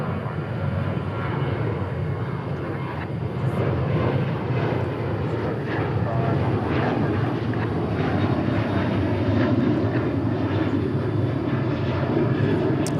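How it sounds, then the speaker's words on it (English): A Sun Country airliner taking off at night at DFW International Airport, a steady, broad engine roar holding loud and continuous throughout without a break, with no voices over it. "Sun Country taking off"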